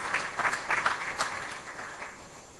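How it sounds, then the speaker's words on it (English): A warm round of applause for an honoured guest speaker at an education event, fairly faint and somewhat distant, a soft patter of many hands that thins out over a couple of seconds. "Please give him a very warm round of applause"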